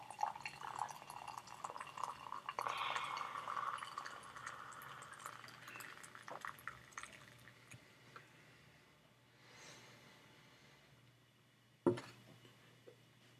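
Freshly percolated coffee pours from an electric percolator into a cup, a faint, quiet trickle of liquid over a few seconds with soft drips following, then a brief clunk near the end.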